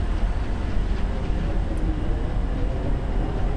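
A train passes in the Rails Unlimited railway game, a loud, steady low rumble and rolling roar that holds evenly throughout with no voices.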